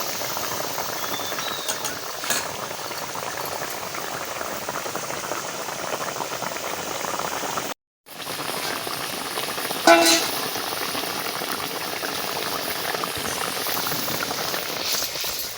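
Lightly spiced tilapia fish curry simmers in a pot with a steady, soft bubbling hiss that continues throughout, with one brief pause midway and no voices.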